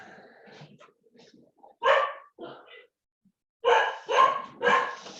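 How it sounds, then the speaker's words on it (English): A pet dog named Bella barks indoors, a few scattered yips followed by a burst of three loud barks in quick succession, with faint quieter sounds in between. "if you can hear Bella, my dog, she's going for it"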